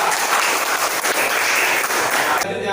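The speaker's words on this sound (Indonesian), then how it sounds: "Beri tepuk tangan untuk mereka bertiga" Applause for three performers in a classroom lesson, a short dense burst of clapping from a group, close and loud, cutting off abruptly at the end.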